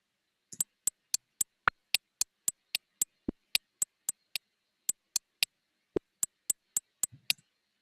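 A sparse programmed drum track of sharp, clicky percussive ticks with MIDI effects added, hitting in a steady, evenly spaced rhythm, close and fairly quiet, with no talking.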